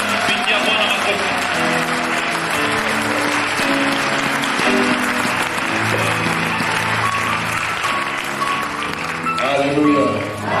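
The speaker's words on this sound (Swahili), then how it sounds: "Okay, pastori, pigia Bwana makofi." A church congregation claps for the pastor, a sustained burst of applause mixed with voices and music.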